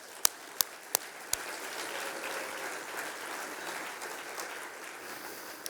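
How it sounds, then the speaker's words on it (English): Applause at a human rights awards dinner, a soft, steady wash of clapping from a crowded room heard at a distance, opened by several sharp, loud knocks near the start. "let's give a round of applause again to Lee."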